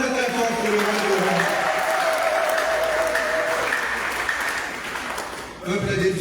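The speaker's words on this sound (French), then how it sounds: "acclamons très très fort pour le roi" A Mass congregation breaks into loud, sustained applause and acclamation, a dense wash of clapping mixed with voices and cheering that holds steady for several seconds before dipping and swelling again.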